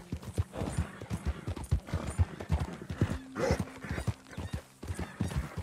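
Horse hooves clip-clop in a steady, rhythmic trot in Red Dead Redemption 2, close and fairly loud, with a brief whinny partway through.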